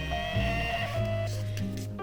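A Phomemo mini printer feeds special paper through as it prints. It makes a close, steady mechanical whir with a humming tone that shifts pitch partway through.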